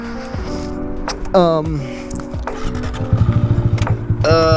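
A Honda Grom stunt motorcycle rides off nearby, its small engine rising and falling through shifting revs with a rapid pulsing putter toward the end, loud and close throughout.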